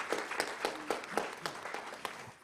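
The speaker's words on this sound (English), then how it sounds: "I did not get that round of applause from them." Audience applause at a talk on Israel and Palestine, scattered individual claps in a loose uneven rhythm, fairly faint and brief.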